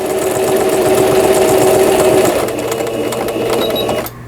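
A Singer 5400 sewing machine runs loud and close while stitching a ladder pattern, its fast steady whir humming for a few seconds, shifting pitch partway, then stopping abruptly near the end.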